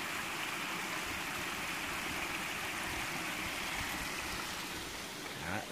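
A trailside stream flows in a constant, rushing wash of water, moderately close and unchanging, with a small bump of handling noise just before the end and no talking.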